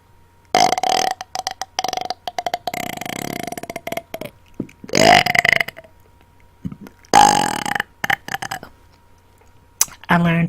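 A person burps intensely on command, producing a series of long, loud, croaking belches in bursts separated by short pauses, close to the microphone.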